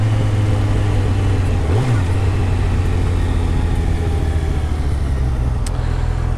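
A Yamaha FZ1 1000cc motorbike engine idles loudly and close by, with a brief blip of revs early on, then settles back to a steady restricted rumble.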